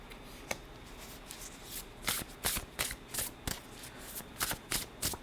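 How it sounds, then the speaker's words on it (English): Cards riffled and shuffled close up, a run of quick crisp flutters and soft snaps with no talking. "These cards feel so good to shuffle."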